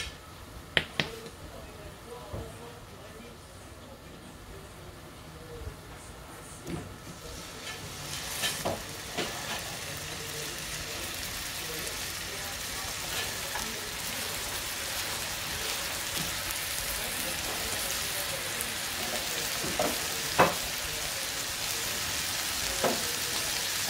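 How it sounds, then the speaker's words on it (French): Burger steaks frying in a pan, a steady spitting sizzle that builds and brightens over time, with scattered crackles and pops, heard close with no talk over it. "pour commencer, je vais faire cuire mes steaks"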